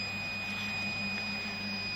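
A buzzer on a temperature sensor test circuit sounds once the reading passes 35 degrees, giving a thin, steady high-pitched tone that holds throughout over a low background hum.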